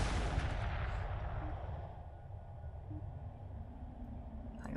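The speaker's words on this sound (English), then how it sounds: "Oh, the gun sound. And the explosions, so good." Space battle in the video game Homeworld 2 Remastered, a heavy booming burst of gunfire and explosions at the start that rumbles on and fades into a quieter low roar.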